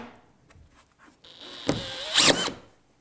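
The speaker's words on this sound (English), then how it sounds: "I'm just going to put a couple screws in the existing drywall too." Power drill driving a couple of screws into existing drywall, giving two short whirring bursts close by, the second louder and longer, amid quiet room sound.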